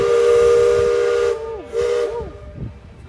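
Loud steam whistle from the Magic Kingdom riverboat at Disney World, a sustained hissy tone that breaks into two shorter swooping blasts, heard nearby over outdoor crowd murmur.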